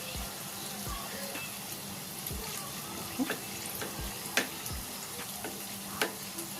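A khaja pastry fries in hot oil while oil is spooned over its top, making a steady, moderate sizzle and bubbling with occasional soft clicks and taps of the spoon. No one talks.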